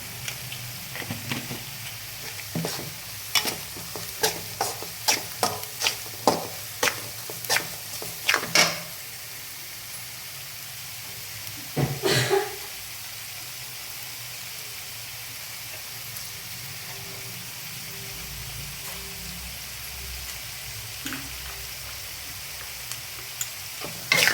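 Vegetables for egg fried rice, including cabbage, sizzling in a pan: a continuous soft fry hiss with a rapid run of sharp scraping and stirring clatters early on, a few louder knocks midway, then calmer sizzling.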